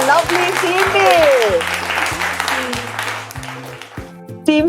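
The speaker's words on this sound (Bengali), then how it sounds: "একটা জোরে হাততালি" Audience applause at a jewellery store's anniversary event, a steady loud patter of many hands clapping together, with music playing underneath throughout.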